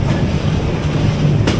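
An air-conditioned passenger train runs from Da Nang to Saigon in Vietnam, heard from inside the carriage as a loud, steady rumble of wheels and carriage noise with no talking.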